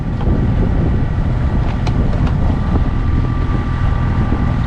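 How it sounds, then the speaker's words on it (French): A light wind blows across a boat moving at about 4 knots on a calm sea off the Balearic Islands, a steady, loud rush of air with a low rumble beneath it and no talk. "il y a un petit vent"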